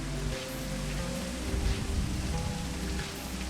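Steady, dense rain from the video game Spaceport Janitor hisses evenly throughout, a continuous wash of falling drops with a soft low rumble beneath and no voices.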